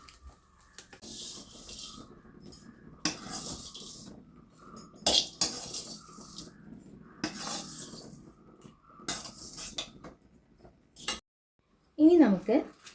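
Dried shrimp chutney is scraped and transferred into a dish, with rubbing, scraping and light clinks of utensil against pot, in bursts broken by short pauses, close and moderately loud.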